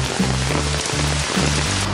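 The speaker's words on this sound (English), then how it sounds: "This is awesome. Walk in the rain," Steady rain patters across a surface in a swamp, a dense continuous hiss with low rumbling tones underneath; no one speaks.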